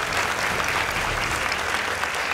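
Audience applauding a dance team at a competition, a dense, steady round of clapping that fills the whole moment, loud and close, with a murmur of crowd beneath.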